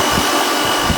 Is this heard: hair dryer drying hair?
yes